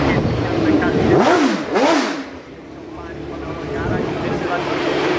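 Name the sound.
2.5 litre four-cylinder race car at Goodwood Festival of Speed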